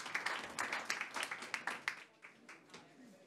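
Brief, faint round of applause from a small audience for panelists at an online talk on energy-efficient buildings, a few scattered claps that fade out.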